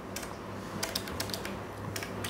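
Rapid typing on a computer keyboard, close and clear, with quick bursts of key clicks in an uneven rhythm over a steady room hum.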